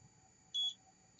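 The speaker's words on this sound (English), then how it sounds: "Okay, I hear the beep, I'm not connected." A single short electronic beep from a 360 camera, signalling it is not connected, sounds once near the middle as a clean high tone over a faint quiet background.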